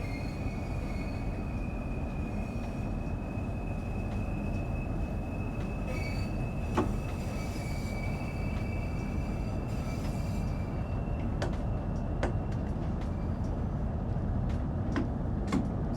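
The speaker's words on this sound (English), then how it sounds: "We'll accelerate our happy little train out of here." Train pulling away under power in Train Sim World 5, a steady low rumble of motor and wheels throughout, with sharp clicks and thin tones from the cab breaking in near the end.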